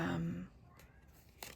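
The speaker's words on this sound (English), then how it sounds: "sorry if you hear my cat yelling in the background" A short, loud cat yowl at the start, quickly fading into quiet room noise.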